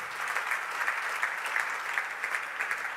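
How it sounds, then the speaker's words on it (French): A church congregation bursts into sustained applause, dense hand-clapping from a sizeable crowd, even and continuous with no voices rising above it. "On applaudit un bon coup"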